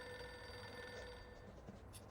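A desk telephone rings faintly in the video game Reverse 1999, a thin electronic bell trill with no voices over it.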